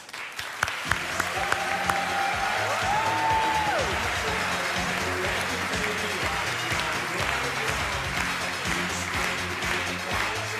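A studio audience at a German TV quiz show applauds to welcome two instructors, dense sustained clapping that fills the whole stretch at a steady, loud level, with a brief tonal musical sweep early on.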